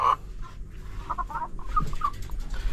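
Backyard chickens cluck softly in a run of short, scattered calls over a quiet background, with no one talking.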